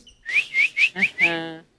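A person whistles a short run of five bright rising chirp-like notes, the last one held longer with a richer tone, clear and close with no talking.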